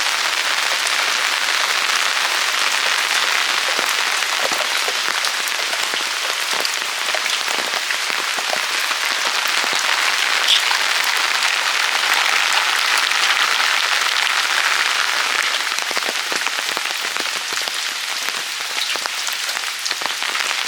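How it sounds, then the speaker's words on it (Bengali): A long, unbroken roar of heavy rain drumming on surfaces, loud and close, with scattered sharper splats throughout and no talking. "জোরে বৃষ্টি এসছে"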